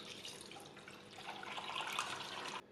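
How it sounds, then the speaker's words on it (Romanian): Water pours steadily into a pot holding glass jars, a soft splashing stream that swells slightly before cutting off. "și apoi turnăm apă."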